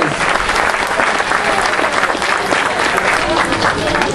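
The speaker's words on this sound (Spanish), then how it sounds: "démosle un fuerte aplauso a él" Steady, dense applause from an audience at a welcome event in Mixco, many hands clapping loudly and evenly throughout the whole moment.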